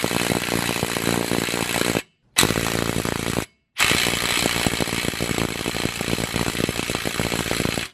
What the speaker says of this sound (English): I'm just gonna throw the impact on there and let it do work